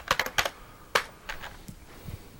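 Several quick bursts of keystrokes on a computer keyboard, tapping out a file name in short uneven clusters with pauses between, close and fairly clear in a quiet room.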